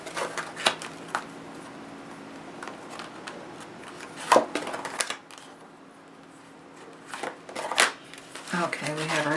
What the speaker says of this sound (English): These cards that I am shuffling now are our header cards